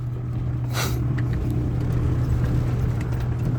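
A car drives along a road, heard from inside as a steady low engine and tyre rumble at an even level, with one brief hiss near the start and no talking.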